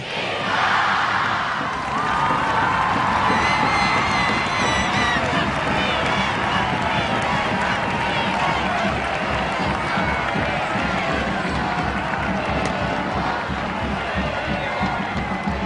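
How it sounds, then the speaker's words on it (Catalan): A large festival crowd in Valencia at the Fallas 2011 opening proclamation claps and cheers, a dense, sustained roar of applause, whoops and shouting that stays loud throughout. "Aplaudiments i ovacions"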